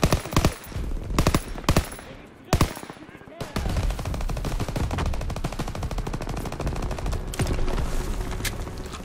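Call of Duty: WWII gunfire, a few separate loud shots followed by sustained rapid machine-gun bursts that run continuously to the end, close and dense.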